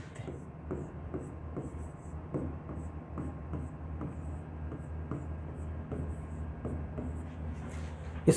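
Chalk or a marker scratching steadily on a board during a coding-decoding reasoning lesson. The short, rhythmic strokes come close and moderately quiet, sometimes with faint speech underneath.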